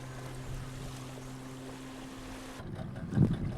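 A motor hums steadily as a Seychelles fishermen's boat runs out to sea, a low droning tone that stops partway through, leaving water splashing and wind.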